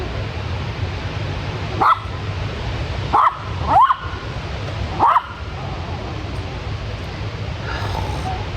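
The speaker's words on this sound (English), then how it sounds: "Don't be barking." A dog barks four times in sharp single yips, spaced a second or so apart, close by over a steady low hum.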